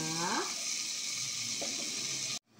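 Chopped onion frying in a pan, a steady low hiss of sizzling oil that runs throughout, with a faint voice-like tone near the start and a sudden cut to silence at the end.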